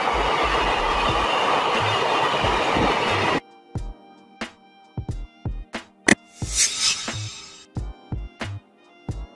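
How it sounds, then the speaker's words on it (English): A container freight train passes by with a loud, steady rumble, then a run of close rhythmic wheel clacks and a brief squeal, with no voices. "A container train, also known as a container freight train, is a specialized train designed for transporting shipping containers."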